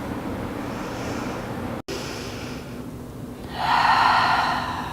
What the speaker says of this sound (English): Taking another breath.